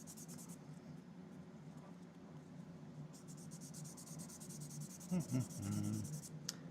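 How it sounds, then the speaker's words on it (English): Steady, soft sanding scratches in a continuous rhythm, close and quiet, with a few small knocks near the end. "Just a little bit of sanding."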